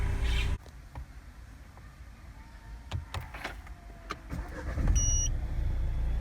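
A Renault Megane 4 shut off and started again: a sharp click and interior electric whirs, then a low engine rumble building near the end, with a short electronic chime.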